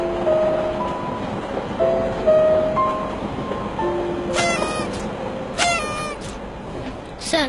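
A train runs steadily, heard from inside the carriage, a continuous rumbling clatter with intermittent bright squeals and rattling bursts, while voices are faintly present underneath.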